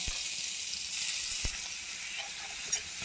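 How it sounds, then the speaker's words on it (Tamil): Crushed ginger, garlic, pepper and cumin sizzle steadily in hot oil in a kadai, a continuous bright hiss with a few small pops and spatters. "எண்ணெய் காஞ்சதும் இஞ்சி பூண்டு மிளகு சீரகம் தட்டி வச்சுட்டு போட்டுக்கோங்க"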